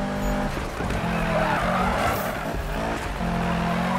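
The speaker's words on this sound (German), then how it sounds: "Oh, der Wagen ist immer noch in einem Drift." A car drifts with squealing tires in a Need for Speed racing game, the engine droning and tires screeching in long overlapping streaks, loud and continuous.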